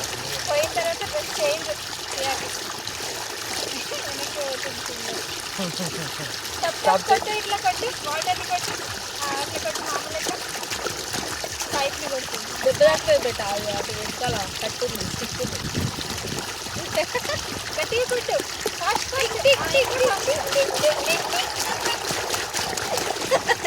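A child splashes in water at a farm field, producing steady splashing, sloshing and trickling that carries on throughout with people talking over it.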